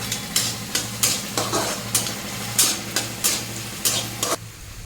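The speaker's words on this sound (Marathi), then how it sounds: "कांदा चांगला गोल्डन ब्राऊन रंग येईपर्यंत परतून घ्यायचा" Onions are sautéed in a pan until golden brown for egg bhurji, with a soft steady sizzle broken by regular spatula scrapes and stirs at a quick, even rhythm, close and moderately loud.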